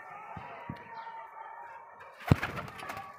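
A male and female pair of pigeons coo softly in short low calls, with a sharper sound of movement or a bird call near the end.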